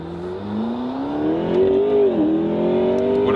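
A McLaren 12C Spider's engine revs up loudly from inside the car, a rising, buzzy tone that climbs steadily, dips briefly at a gear change, then pulls on again without any speech.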